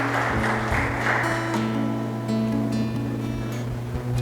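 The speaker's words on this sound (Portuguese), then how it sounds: "Você pode dar um aplauso bem forte a Jesus?" A church congregation gives Jesus a strong round of applause, dense sustained clapping filling the space over steady organ or keyboard chords, loud and continuous throughout.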